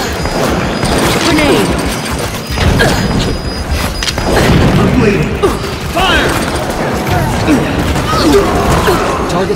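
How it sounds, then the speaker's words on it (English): A grenade goes off during an ORC Heroes 2v2 match amid a dense, loud wash of game combat: booms, clattering mechanisms and gunfire, with a player shouting over the din. "Life grenade!"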